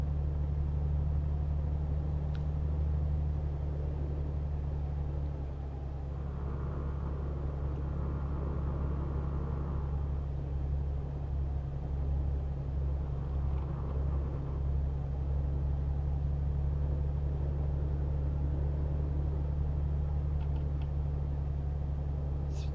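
Steady low engine rumble of a Renault truck cruising in Euro Truck Simulator, a constant drone throughout with no talk.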